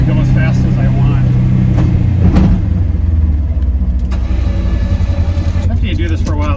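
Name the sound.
Polaris Ranger XP1000 NorthStar UTV engine driving in low gear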